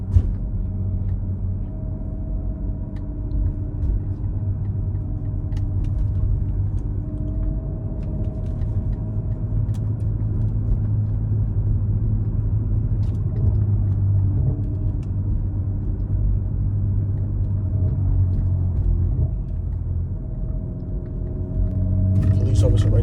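A 500hp BMW driving a bumpy road at night, a steady low engine and road rumble heard from inside the cabin throughout, with people talking over it.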